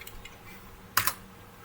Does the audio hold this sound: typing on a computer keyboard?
yes